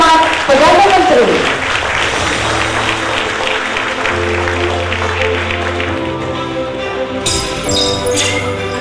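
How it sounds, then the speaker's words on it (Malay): An audience applauds Prime Minister Ismail Sabri Yaakob at a 2022 Malay-language symposium, a fairly loud burst of clapping that fades into a busy hall, with a voice talking over it. "Tepukan dulu kepada Yang Maha Hormat Perdana Menteri."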